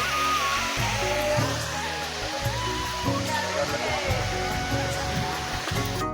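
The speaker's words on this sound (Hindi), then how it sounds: "ऊपर से जो गिरा था पानी यहाँ इकट्ठा हुआ जात है" Water from the Kendai waterfall crashes and pools in a continuous loud roar, with people talking over it throughout.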